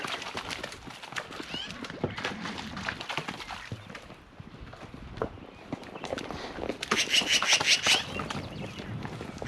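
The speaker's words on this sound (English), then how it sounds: "we have mares and geldings and a couple of young stud horses in here all running together" Several horses, mares, geldings and young stallions, gallop past together with a rapid drumming of hooves, loose rustling and a whinny near the end, fairly close.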